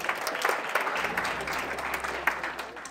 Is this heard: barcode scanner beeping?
no